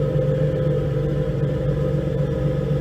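A classic 1958–59 Chevrolet Impala engine idles steadily nearby, a dense continuous low rumble with an even drone and no voices.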